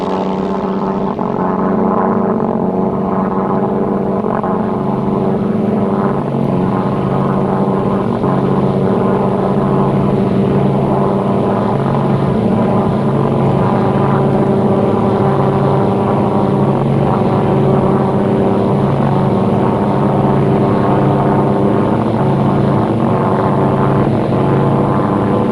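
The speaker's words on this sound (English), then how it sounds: "the aerial filming of two unique fighters in close formation, the Sopwith Camel and the Spitfire" Sopwith Camel and Spitfire fighter planes flying in close formation, a loud, steady propeller-engine drone with a layered harmonic hum throughout.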